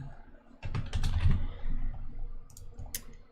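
Someone types a file name on a computer keyboard, a quick burst of clicking keystrokes close up, followed by a few scattered taps.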